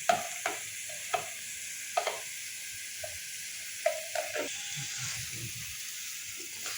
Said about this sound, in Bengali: এই যে আমরা চুলায় মাছ ঢেলে দিচ্ছি।